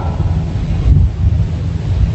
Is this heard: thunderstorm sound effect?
yes